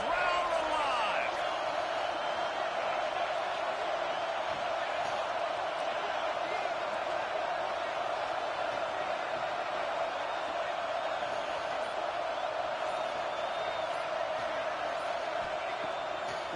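A football stadium crowd roars steadily during a third-down red zone play, a dense, continuous wash of cheering noise with no breaks, and a commentator talking over it.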